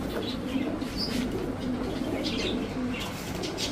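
High Flyer Giribaz pigeons, a male and female pair, coo repeatedly in low throaty bursts close by, mixed with soft chirps and brief wing flutters, with no talking.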